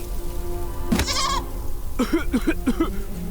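Goat bleating in the point-and-click adventure game Deponia Doomsday: one short bleat, then a quick run of four or five nasal, wavering bleats close up over a steady hissing, rain-like background.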